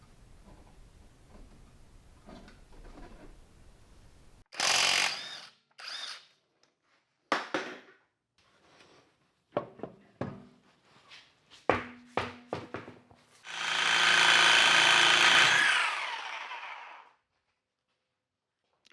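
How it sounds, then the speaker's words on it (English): A reciprocating saw cuts through a car's exhaust pipe at a muffler: scattered metallic clanks and short bursts lead up to one sustained, loud, rasping cut of about three seconds that stops sharply. "I can't get to the top without a Sawzall. So I'm gonna do that next"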